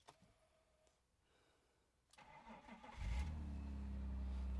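A BMW E46 Alpina B3 starts after a quiet moment with small clicks and handling noise, then catches and settles into a loud, steady, rumbling idle close by.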